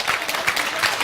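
A brief round of applause during a dharma talk, a short burst of scattered hand claps from a small group, moderately loud and quickly over.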